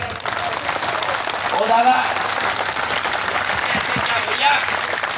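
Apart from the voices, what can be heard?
rally crowd clapping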